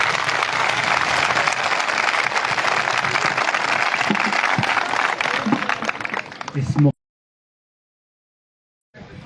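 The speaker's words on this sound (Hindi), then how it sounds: "एक बार फिर जोरदार ताली।" A school audience bursts into loud, sustained applause with dense clapping filling nearly seven seconds, then cuts off abruptly into silence.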